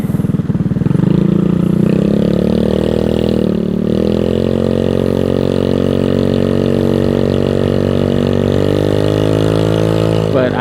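A Venom X18 motorcycle with a DF50SST motor idles close by, giving a steady, even drone with a slight rise in pitch early on and no revving.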